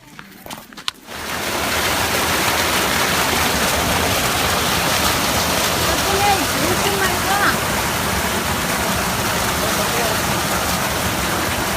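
A river near Mahajanga flows with a loud, dense, continuous rush of water that starts abruptly after a brief quieter moment and stays steady, with occasional voices under it.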